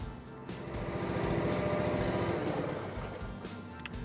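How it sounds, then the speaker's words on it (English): A zero-turn mower engine runs close by, its steady mechanical chug swelling slightly and then easing over a few seconds, with no talking. "you have to cycle the engine on in order for it to pump through the filter"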